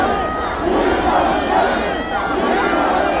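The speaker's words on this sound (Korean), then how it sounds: "윤석열 대통령을 환호하는 이 목소리가 하늘에 닿을 것이고" A large outdoor crowd at a rally for President Yoon Suk-yeol's citizen defense group launch in Cheonggye Plaza, Seoul, cheering and shouting in a steady, dense roar that holds for the whole stretch.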